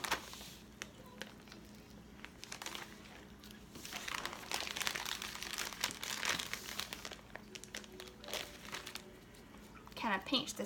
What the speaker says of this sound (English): I'm just going to use a Ziploc bag to help roll it